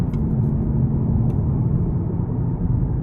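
A deep, steady exhaust rumble from a 2025 Nissan Z drones close by from inside the cabin, loud and continuous with slight throaty pulsing, no talking.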